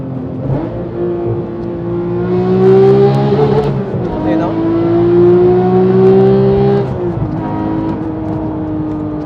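A Porsche GT3 engine climbs steadily in pitch toward high revs, stumbles with a hesitation near 8,000 RPM, then builds again before easing off, loud and close with speech partly over it.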